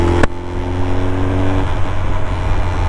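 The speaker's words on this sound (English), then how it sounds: "Now we can give it gas, give it throttle, and we're moving. Clutch in, second gear up." A motorcycle revs loudly up close as the rider shifts from first into second gear, with a sharp mechanical clack at the start and a steady engine drone after it, no talking.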